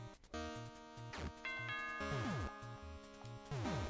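A doorbell-like chime sounds in a Super Mario Maker 2 Zelda-themed level, heard as repeated ding-dong tones over steady game music with descending sliding notes.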